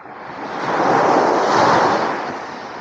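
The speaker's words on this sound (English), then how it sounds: "there's waves hitting the rock wall" Ocean waves hit a rock wall on a quiet beach, one broad surging wash that swells, peaks and slowly fades, close and loud under some wind, with no voices.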